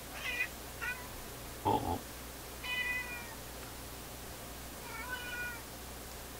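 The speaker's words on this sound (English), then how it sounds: "We feed our cats late in the evening, so their tummies are full when we go to bed." Indoor cats meow several times, short and fairly faint, spread across a steady low electrical hum, with a brief spoken voice in between.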